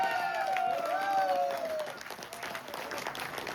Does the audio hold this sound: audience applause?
yes